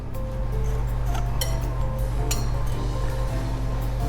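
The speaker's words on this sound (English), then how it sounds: "we're just going to whisk that together" Whisk clinks quickly against a bowl while cinnamon and apple pie spice are mixed, giving light, rapid metallic ticks over a steady low kitchen hum.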